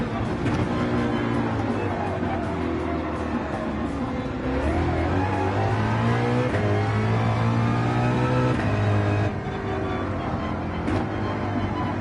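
A Mustang race car engine in Gran Turismo 7 roars continuously, climbing and falling in pitch through gear changes as it revs hard, loud and close throughout.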